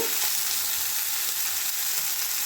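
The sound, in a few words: frying spinach chachchari in a pan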